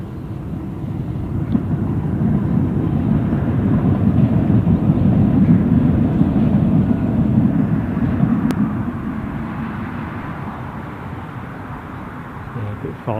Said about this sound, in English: obviously we have our Ryanair Barcelona flight on its way in